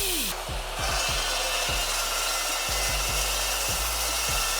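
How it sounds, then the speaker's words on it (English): A chop saw cuts through a copied metal suspension piece for a vintage supercar build, giving a loud, steady grinding roar that runs the whole time, with a few low knocks beneath it. "So now I'm gonna chop saw it and we'll have our copied piece."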